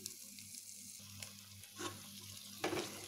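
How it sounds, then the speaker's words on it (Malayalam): Boneless chicken pieces tossed into a masala for garlic chicken, giving a low steady frying hiss with a few louder bursts of sizzle and scraping as the pieces go in and are stirred. "ഞാൻ യൂസ് ചെയ്തിരിക്കുന്നത് ബോൺലെസ് ചിക്കൻ ആണ്. അപ്പം നമ്മുടെ ആ ചിക്കൻ ഇനി ആഡ് ചെയ്ത് കൊടുക്കണം."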